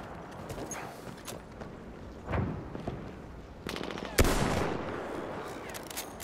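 Gunfire from a Battlefield 1 multiplayer beta match: a few scattered shots and a sharper burst near the end over a steady battlefield din, with a low background rumble throughout.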